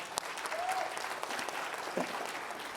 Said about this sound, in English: everybody that's been in the military, I give y'all a round of applause.